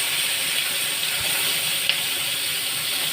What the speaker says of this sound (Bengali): এবার কালো জিরে ফোড়ন আর কাঁচা লঙ্কা, টমেটো আর পেঁয়াজ ভাজিয়ে দেবো।